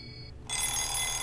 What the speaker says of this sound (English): I was woken up by a noisy alarm clock.